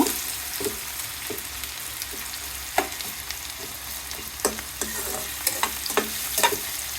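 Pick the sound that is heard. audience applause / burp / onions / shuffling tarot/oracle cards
onions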